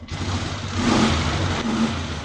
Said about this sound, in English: until she warms up, she idles kind of slow